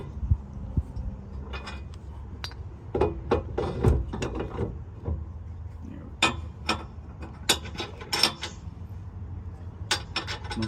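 A 6-inch drop tow hitch on a 2018 Ram being adjusted, with a series of sharp metallic clicks and ratcheting clatters scattered over low rumbling handling noise, close by.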